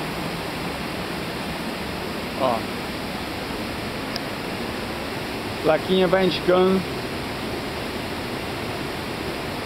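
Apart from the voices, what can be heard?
waterfall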